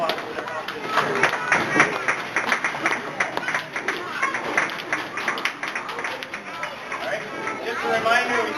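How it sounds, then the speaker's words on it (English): Children clapping for their parents at an end-of-year awards event, a steady patter of many small hands with crowd chatter and a voice over it. "let's give our moms and dads a round of applause for their help this year"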